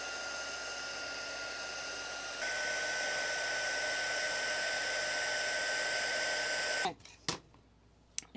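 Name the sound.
heat gun heating embossing powder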